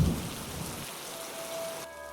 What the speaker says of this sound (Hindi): उस दोपहर बारिश शुरू हो गया, बेमौसम बारिश।